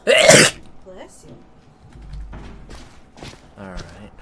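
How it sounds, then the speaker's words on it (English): A single loud, explosive sneeze bursts out at the very start, during a video game session, followed by quieter chatter and scattered speech from people in the room. "I need to sneeze, but it's not coming out."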